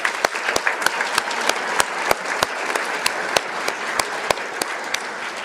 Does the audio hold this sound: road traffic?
no